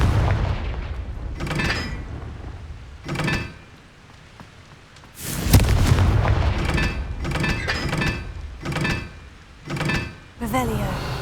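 Explosive Confringo spell blasts in Hogwarts Legacy, a series of sharp bursts repeating every second or two, with one larger, louder blast midway, heard up close with no talking.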